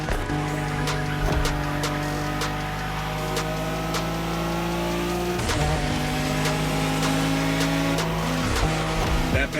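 A Nissan Skyline drives in The Crew Motorfest, its engine droning steadily throughout with shifts in pitch as it changes gear, plus brief tire noise, loud and continuous with no talk.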